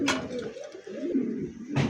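Pigeons coo in low, throaty rolling calls close by, several phrases across a short span, with a brief rustle at the start and end.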